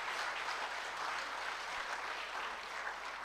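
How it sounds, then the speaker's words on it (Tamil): A hall audience at a public talk breaks into sustained, even clapping that sounds a little distant, with no voices over it. "ஒரு பலத்த அரங்கம் நிறைந்த கைத்தட்டல் அவர் கொடுத்துடலாம்."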